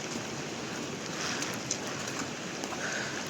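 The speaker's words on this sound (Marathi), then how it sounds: "आता आला बघा पाऊस परत आलेला आहे." Heavy rain falls steadily during a forest trek from Panhala to Pawankhind, a constant close hiss of drops on surfaces with a few brighter splatters and no talking.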